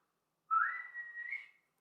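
A person whistles an overture, a single clear rising phrase that swoops up, holds and wavers before fading, alone against silence.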